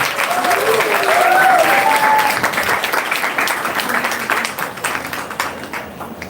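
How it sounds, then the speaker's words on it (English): An audience at a live quiz event, Gurumantra Quizathon 2023, applauds the competing teams with loud, sustained clapping that gradually thins and fades toward the end. "Please, a big cheer for both the teams."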